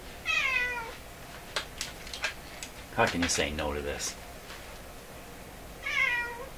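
Peanut the cat meows close by, one drawn-out cry near the start and another at the end, with a person talking in between and soft ticking in the background.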